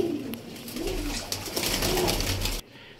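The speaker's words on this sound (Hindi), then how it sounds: "ये मेरा फेवरेट कबूतर है जी सलारा टैडी" Pigeons cooing close by in repeated low, rolling calls, with a steady background hum and no speech.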